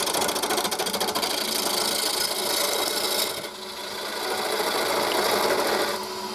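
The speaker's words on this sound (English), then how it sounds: "I'm just hogging out a lot of the material to get the shape I want using the roughing" A roughing gouge hogs out spalted hazel on a spinning wood lathe, a dense continuous rasping chatter with a rapid buzzing rhythm that eases briefly midway before building again, close and loud.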